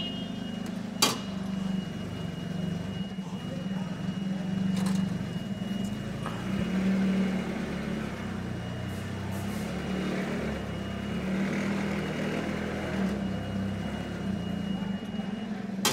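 A Nissan CL40 liquid propane forklift idles with a steady low engine hum, fairly quiet, with a few sharp metallic clicks and knocks at the start and scattered through.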